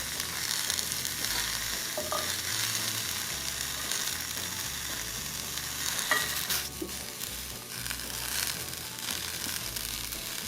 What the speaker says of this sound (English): Now that I flipped my peppers, I'm gonna add my onion and my garlic.